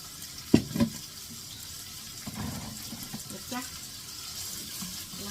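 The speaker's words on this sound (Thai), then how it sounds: "ผัดหมูรวนหมูให้มัน" Pork marinated with oyster sauce, pepper, sugar and seasoning stir-fried in an oiled pan, a steady soft sizzle with scraping of a utensil and a couple of sharp clanks near the start.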